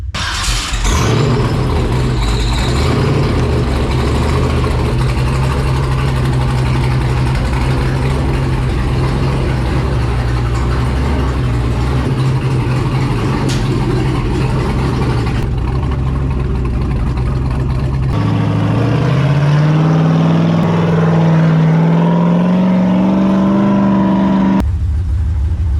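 A Jeep Wrangler engine turns over and settles into a steady, loud running rumble close by, with a pitch rise midway as it revs before easing back.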